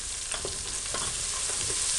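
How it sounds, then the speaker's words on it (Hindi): Spices fry in a pan for chole, making a dense, continuous hiss and sizzle with faint stirring taps underneath, and no one speaks. "एक मिनट के लिए फ्राई करके आप मिर्च नमक डाल दें"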